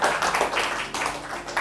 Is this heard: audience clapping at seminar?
yes